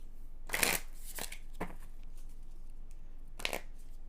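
Playing cards being shuffled in a few quick riffling bursts, close and fairly quiet, with short pauses between them.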